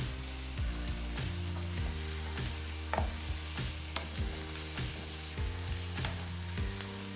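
Garlic, added after onions, frying in a pan while making a Caucasian beef soup, giving a steady close sizzle with light stirring scrapes and occasional soft clicks, no voices.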